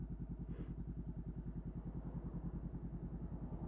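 A 50cc moped rides along a road, its small engine giving a steady, fast, even putter that runs close and continuous throughout.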